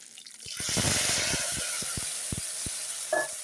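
Red chillies and curry leaves frying in hot oil for a mango and drumstick sambar, a bright steady hiss with sharp crackling pops scattered across it, close and without talk.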